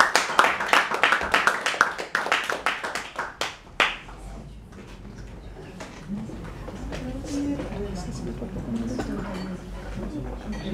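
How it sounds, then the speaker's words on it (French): Audience members at a concert clap before a piano performance, a sparse rhythmic patter of individual claps that stops after a few seconds, followed by murmuring talk and room noise. "S'il vous plaît, on applaudit."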